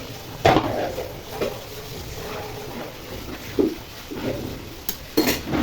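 Chicken curry is stirred in a pot with scattered knocks and scrapes of a spoon, a few sharper clanks standing out against a steady low hiss, close by.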